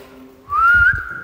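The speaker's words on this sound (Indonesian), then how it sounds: "sekarang gue coba bersiul" A single clear whistled note, held for under a second and gliding slightly upward, close by with nothing else around it.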